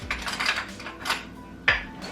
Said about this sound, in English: Just scoop it out with a spoon.